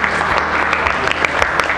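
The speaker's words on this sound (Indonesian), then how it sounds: "Tepuk tangan buat Mbak Alicia." A classroom of students applauding, dense steady clapping that fills the room for a couple of seconds, fairly loud and close.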